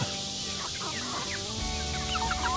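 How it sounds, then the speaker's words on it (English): Chickens cluck and call in a small flock that includes a white rooster, with overlapping bird calls and short squawks throughout and no talking. "And I found out this white one here is a rooster."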